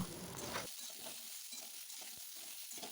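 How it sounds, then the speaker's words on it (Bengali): Vegetables including beans being fried for Bengali neem jhol, stirred around a hot pan with a steady bright sizzle and irregular scraping and clinking strokes throughout, close and alone with no talking. "এটাকে আমি কিছুক্ষণ ভালো করে নাড়াচাড়া করে নেব।"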